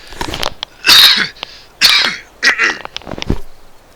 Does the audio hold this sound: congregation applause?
no